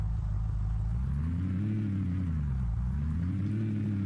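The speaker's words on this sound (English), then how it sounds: "So now I've got the engine up again." Car engine in a Minecraft car mod, a loud, steady droning rumble whose pitch gently rises and falls as the vehicle drives; no talk.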